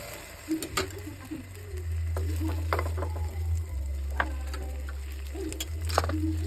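Tikoy coated in egg frying in a pan, a soft sizzle under a low steady hum, with scattered clicks and light taps of a utensil, no talking.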